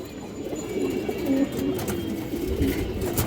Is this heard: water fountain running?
no